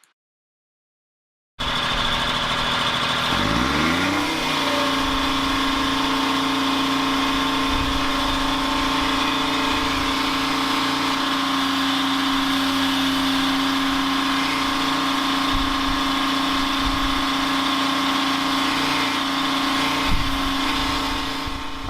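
Homemade generator engine on a 1977 Peterbilt 359 toterhome starts up and runs steadily, a loud, continuous mid-pitched drone with a strong intake roar and constant hum, close by, with no talking.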